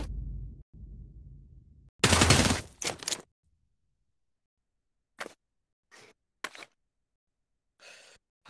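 Bursts of automatic gunfire in the VR shooter Pavlov: a long loud volley, then several short separate bursts with silent gaps in between, close and sharp.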